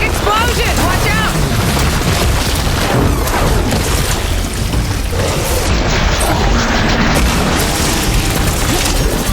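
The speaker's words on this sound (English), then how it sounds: "Hey, big explosion! Watch out!" A big explosion from the video game Horizon Forbidden West bursts out as a loud, dense boom and crackling roar of fire and debris. It fills the whole stretch amid combat effects and a character's voice.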